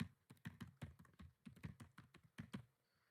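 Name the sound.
typing an email address on a keyboard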